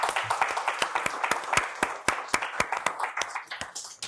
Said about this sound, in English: give another round of applause for our New Jersey chapter